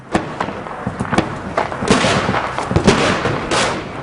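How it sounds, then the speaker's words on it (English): Mortar and artillery fire pounds a hillside in Homs, with a rapid series of sharp, loud blasts and thuds arriving in irregular bursts over continuous rumbling battlefield noise. "Mortars start to drop on the hillside."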